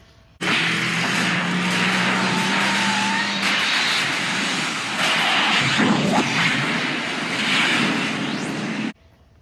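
A Jiusi WB12Pro RC car runs at full throttle with a loud, steady high-pitched electric motor whine that holds for about eight seconds, then cuts off abruptly.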